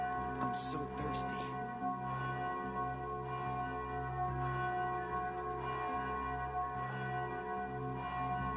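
Church bell ringing in the video game Dying Light 2, with steady, sustained tones held throughout over a low ambient drone, moderately loud and without a break.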